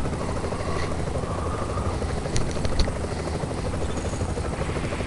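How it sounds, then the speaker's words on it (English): A helicopter lifts off in The Division video game, its rotor and engine producing a loud, steady, dense whir that fills the whole stretch, with a few faint higher clicks partway through. "Helo is in the air and on our way."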